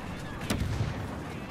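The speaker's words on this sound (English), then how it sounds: "while I'm shooting the dude that's shooting at everybody" A single booming shot sounds in a multiplayer shooter game over a constant background rumble, with a player's voice murmuring faintly beneath.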